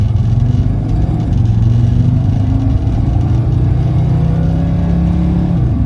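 A 1982 Mercedes 300D turbo diesel sedan running close up, a loud steady low diesel rumble with slight shifts in pitch as it pulls along, no voices.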